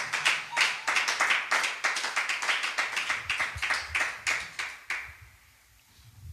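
A congregation claps together in a steady, quick rhythm of hand claps for about five seconds in a church worship service, then the clapping stops and the room falls nearly quiet.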